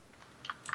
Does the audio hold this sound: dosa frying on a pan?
no